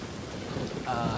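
Rain with thunder in the survival game The Forest, a steady broadband wash of rainfall close around, with a low rumble and a brief brighter swell near the end.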